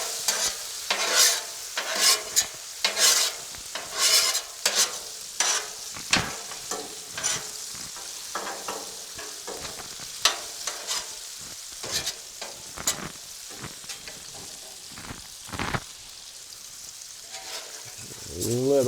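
Taco meat sizzles on a Blackstone griddle while a spatula scrapes and stirs it in repeated sharp strokes over a steady frying hiss.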